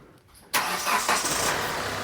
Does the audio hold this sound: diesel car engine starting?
yes